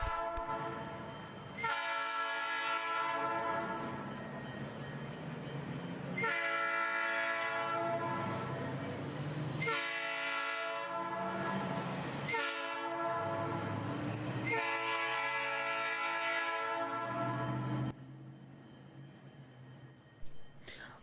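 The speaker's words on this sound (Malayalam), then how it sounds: "വേലിമറവുകളൊന്നുമില്ലാതെ ആളുകളുടെയും മറ്റു വാഹനങ്ങളുടെയും കൂടെ ട്രെയിൻ പൊതുനിരത്ത് പങ്കിടുന്നതാണ് ഇത്." A street-running train sharing a public road with people and vehicles sounds its horn in about five long, loud, harmonically rich blasts separated by short gaps, followed by quieter rumbling after the last blast.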